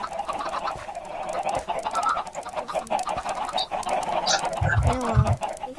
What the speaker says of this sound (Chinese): 有鸡出来了。